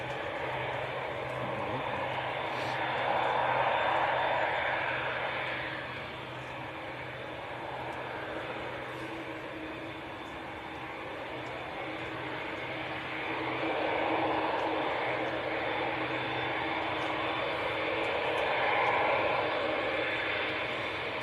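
A TUI Dash 8 series aircraft at Manchester Airport, a broad engine roar that swells and fades at a distance, steady and fairly loud with no talk.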